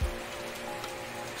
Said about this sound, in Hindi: स्वतंत्रता दिवस है आज और बारिश भी जोरदार लगी हुई है इस वक्त।